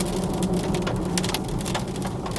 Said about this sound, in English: It's raining in LA.